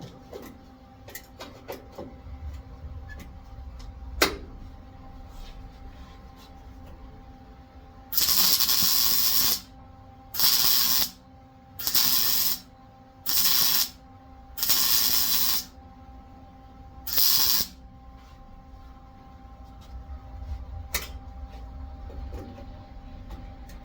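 A spot welder works on thick sheet metal, fitting an outer baffle to a 1993 Ford Mustang Cobra Fox body. It gives six sharp, evenly spaced hissing bursts of about a second each against a quiet background.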